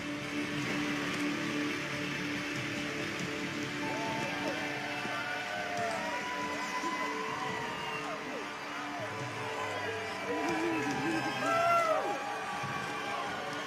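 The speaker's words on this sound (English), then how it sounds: "you hear that crowd here at Husky Stadium supporting her" A crowd cheering and whooping at Husky Stadium during a bench press and deadlift competition, a steady distant roar with scattered shouts that swell near the end, with a voice talking over it.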